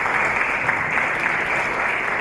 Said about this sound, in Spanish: un fuerte aplauso para este